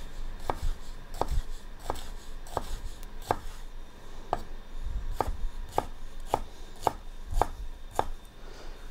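A knife chops white onion and shallot for risotto, making crisp, evenly spaced strikes on a cutting board. About a dozen steady chops sound alone and close, with no talking.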